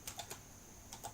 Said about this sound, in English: I'm typing BBC.